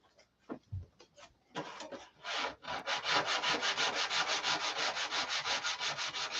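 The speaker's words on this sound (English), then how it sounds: "So anywhere you see the tissue wrinkled up, just hit it with some sandpaper." Sandpaper is rubbed over wrinkled, doped tissue covering: a few hesitant scrapes, then a steady rhythmic back-and-forth rasping in quick, even strokes, close and fairly loud, with no talking.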